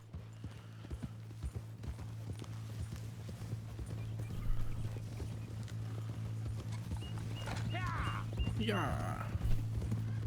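Horse hooves clip-clop at a steady walking rhythm in a video game, close and continuous under a low hum, with a whinny near the end and brief speech in the background.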